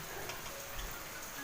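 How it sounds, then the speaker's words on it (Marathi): Light drizzle falls in a soft, even hiss of rain, faint and unbroken, with no voices. "थंडी एक हा बघा पाऊस तुम्हाला दाखवते"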